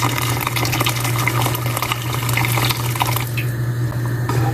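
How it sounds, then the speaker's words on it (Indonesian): Hot water pours steadily into a pot of soup with turmeric and tomato, a continuous splashing gurgle close by, easing off toward the end. "lalu tambahkan air panas"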